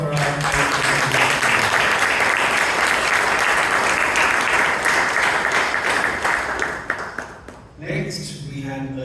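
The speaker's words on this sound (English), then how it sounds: "Can we have a huge round of applause for our" A sustained round of applause from the audience at a Toastmasters club meeting in Bangalore, dense and steady for most of the stretch before thinning out near the end, with some voices mixed in.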